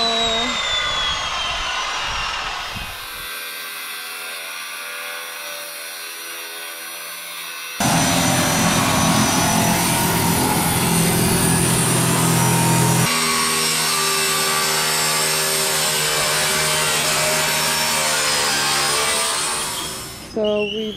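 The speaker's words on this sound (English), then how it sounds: "We went through a few cutting discs, so now we got the big one out." A large cutting-disc grinder slicing through metal sheets for a DIY camper box on an ex-Australian Defence Force Unimog, a loud, sustained high whine that shifts in pitch and intensity across several continuous cuts, close by.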